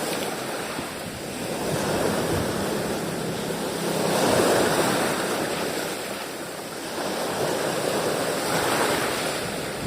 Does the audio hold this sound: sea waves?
yes